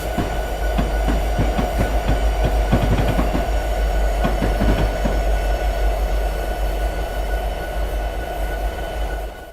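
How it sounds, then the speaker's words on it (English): Diesel train in Train Simulator 2017 rumbling steadily along the track, with rhythmic clickety-clack wheel beats over a deep continuous engine drone, loud and close. "This should be the train ahead of us."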